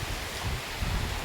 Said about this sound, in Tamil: ஆமாம், காற்று நல்லா அடிக்குதுங்க